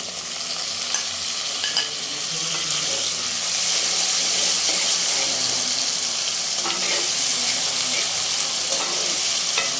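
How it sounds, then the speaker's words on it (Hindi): Steady, loud sizzling and crackling of tomato, garlic and ginger frying in a hot pan for aloo palak, continuous throughout with occasional stirring noises. "तो इसको भी अच्छे से फ्राई करते हैं ताकि टमाटर हमारे अच्छे तरीके से गल जाए।"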